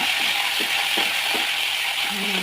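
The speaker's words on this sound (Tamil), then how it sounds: "நல்லா வதக்கணும்." Rasam powder with dried red chillies and ground coriander sautéing in a hot pan gives a steady, close sizzle and fry hiss, with a few soft stirring scrapes and no talk.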